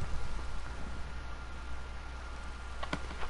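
Steady soft rain patter in Minecraft with a broadband hiss, a few sharper drops standing out near the end; fairly quiet and continuous.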